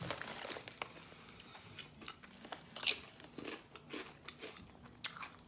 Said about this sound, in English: it's a very thin chip, very crisp, very crunchy